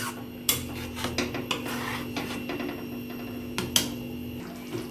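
A spoon stirs cashew paste masala in a metal pan: repeated scraping and clinking strokes, close and fairly loud, over a steady low kitchen hum.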